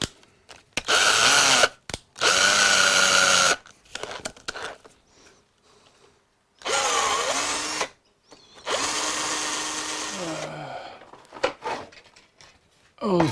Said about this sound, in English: Well, a tapping drill for an M5.